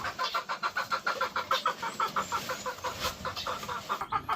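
Breeding hens cluck in a steady run of close, loud, evenly spaced pulses that last throughout, with no voices over them.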